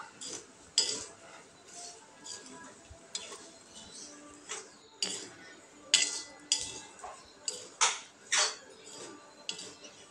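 Peanuts stirred with salt in a pan over low heat, giving crisp, irregular clinks and ticks of utensil against metal and rattling nuts, close and fairly quiet.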